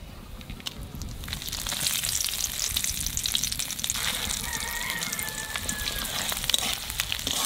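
Bay leaves, dried chillies and panch phoron hit hot oil for a village-style vegetable khichuri, making a steady, dense sizzle that carries on without a break, close by.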